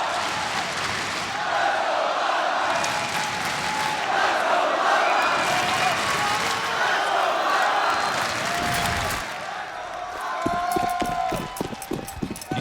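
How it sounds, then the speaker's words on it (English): A large arena crowd roars and cheers continuously at the ELEAGUE Boston 2018 Counter-Strike Major grand finals, a broad sustained wash of voices, with a commentator speaking excitedly over it. "Listen to this crowd!"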